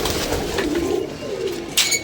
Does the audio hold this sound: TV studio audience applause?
no